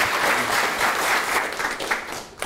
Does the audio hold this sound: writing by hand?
no